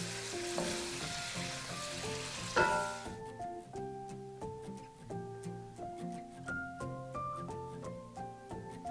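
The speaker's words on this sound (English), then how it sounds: "just let them finish cooking in that delicious garlic butter" Bite-sized steak pieces sizzle in garlic butter in a skillet, a bright hiss loudest for the first few seconds before fading under a melodic music track that carries on to the end.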